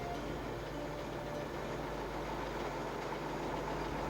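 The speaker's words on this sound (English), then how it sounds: "We boarded a sturdy fishing boat and chugged out." A fishing boat engine chugs steadily at a low, even idle, a constant droning rumble close by with no other sounds.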